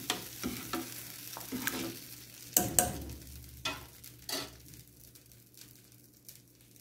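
A pot of tiffin sambar being stirred and mixed, with soft scraping strokes and light liquid sloshing in scattered bursts, a couple of sharper clinks near the middle, and a steady low hum underneath.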